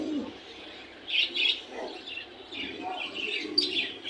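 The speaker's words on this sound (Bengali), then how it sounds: "ফ্যান্সি কবুতর, খুবই বিগ সাইজ" Fancy German copper pigeons, large birds at a bird market, coo and chirp in soft, repeated bursts close by, with faint background chatter and a brief flutter of movement.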